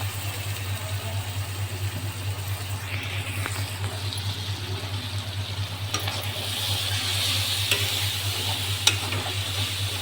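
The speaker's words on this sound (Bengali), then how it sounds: "এখানে আদা রসুনের পেস্টটা দিয়ে দিয়েছি তেলে।" Ginger-garlic paste sizzles in hot oil in a wok while prawn malai curry is being made. The soft, steady frying hiss runs over a low constant hum, with occasional scrapes of stirring and no talk.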